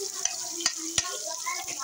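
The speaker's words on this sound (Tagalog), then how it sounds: "pwede ko na ihulog yung sardinas" Canned sardines frying in a pan with onion and tomato, a steady close sizzle broken by a few sharp clicks and scrapes from stirring.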